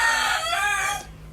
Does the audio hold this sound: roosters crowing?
yes